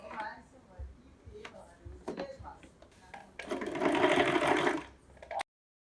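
A sewing machine stitching an apron made from an old kurti, whirring loudly for about two seconds after some handling noises and a voice speaking, then cutting off abruptly.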